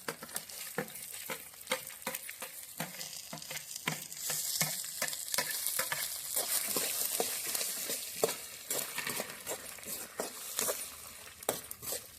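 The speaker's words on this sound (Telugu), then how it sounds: "నూనె పోసుకున్నాం ఎండుమిరపకాయలు పచ్చిమిరపకాయలు ధనియాలు జీలకర్ర మెంతులు ఆవాలు వేస్తున్నాం" Dry red chillies, green chillies, coriander seeds, cumin, fenugreek and mustard seeds sizzle and crackle in hot oil in a pan over a wood-fired stove, with steady frying hiss and repeated sharp pops and stirring scrapes throughout.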